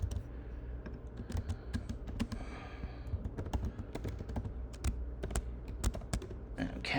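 Keys rattle on a computer keyboard as code is typed, a close, uneven stream of quick taps and short bursts that runs the whole time with brief pauses.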